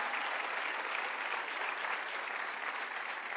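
A crowd at a political announcement with Barnard leadership gives a big, sustained round of applause, a dense even roar of clapping that holds steady throughout with no talking.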